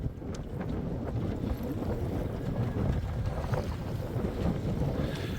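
Strong wind gust roaring across a sailboat on a lake, a steady loud rush of wind buffeting the microphone with water and hull noise underneath, no talk.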